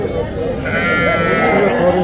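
Sheep bleating at a livestock market in Marhamat, Andijan, with several overlapping calls, close and loud over the steady murmur of the crowd. People talk throughout.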